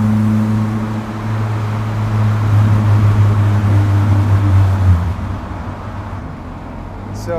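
A 1984 Hyundai Pony's engine drones loudly with a steady low hum and road roar inside a tunnel, then the tone drops and the noise fades somewhat.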